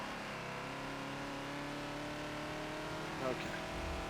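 Ford Falcon XB engine in Forza at Road America, a steady mid-pitched drone as the car shifts down from fourth to third gear on cold tires, with a short rise in revs near the end.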